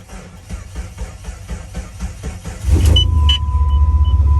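A Jeep Wrangler nearly out of gas cranks and catches partway through, its engine settling into a loud, rough idle rumble after a stretch of quieter mechanical ticking.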